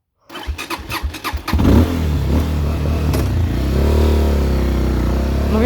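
A Tekken 250 R-line motorcycle engine cranks with several quick starter pulses, catches with a rising rev, then settles into a steady close idle that holds to the end.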